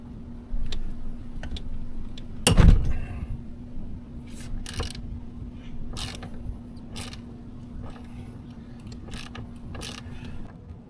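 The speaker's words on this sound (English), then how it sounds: "I tightened these bolts with Loctite last time, so it takes some effort to unscrew them." Loctite-secured bolts on a Volvo Penta steering pivot housing being unscrewed with a hand tool: scattered mechanical creaks and ticks over a steady low hum, with one loud sharp crack as a bolt breaks free.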